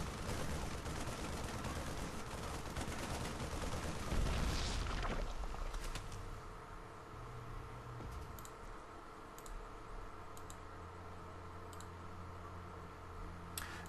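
A StarCraft 2 Marine fires at an extractor, a steady stream of fast, rattling gunfire that is loud at first and then falls away into quieter game noise with scattered clicks.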